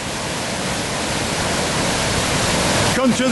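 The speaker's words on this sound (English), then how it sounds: "look at some of these little tiny waterfalls" Small waterfalls tumbling over rocks just below a weir on a Peak District stream, a steady, broad rushing of water filling the scene, with a brief burst of voice near the end.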